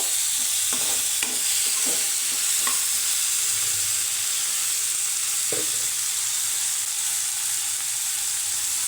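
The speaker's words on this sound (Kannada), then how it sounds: "ಈಗ ಈರುಳ್ಳಿ ಮತ್ತು ಟೊಮ್ಯಾಟೊ ಚೆನ್ನಾಗಿ ಸಾಫ್ಟ್ ಆಗೋವರೆಗೂ ಎಣ್ಣೆಯಲ್ಲಿ ಚೆನ್ನಾಗಿ ಫ್ರೈ ಮಾಡ್ಕೋಬೇಕು" Onion and tomato frying in oil in a pan, a steady loud sizzle throughout with a few scraping stirs near the start and another around the middle, no voices.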